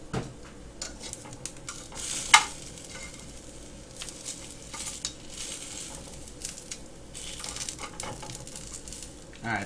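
Onions frying in a pan, with a constant sizzle and repeated stirring and scraping, one sharp clatter of a utensil, and brief speech in places.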